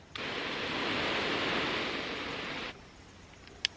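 A steady, close broadband hiss of water comes from an expanding garden hose spray nozzle on its flat setting. It runs evenly for over two seconds, cuts off abruptly, and a short click follows in the quiet.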